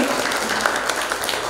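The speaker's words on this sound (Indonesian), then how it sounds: "tepuk tangan untuk kita semuanya pagi hari ini" An audience at a morning museum gathering claps together, a steady wash of applause throughout with no voices over it.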